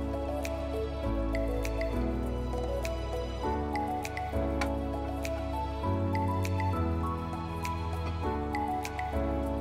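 Breaded cutlets simmer in a sour sauce for a northern Iranian dish, with soft bubbling pops and ticks repeating under steady background music throughout.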